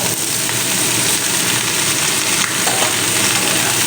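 Freshly cut eggplant pieces go into a pan of small fish frying in oil, giving a loud, dense, continuous sizzle close up with a faint stirring rustle underneath.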